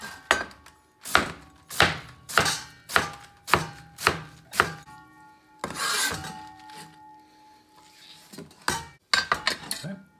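A knife chops washed ingredients for Shanghainese stir-fry noodles on a cutting board in a steady run of about ten firm strokes, then pauses with light rustling before a quick burst of closer chops, with no talk.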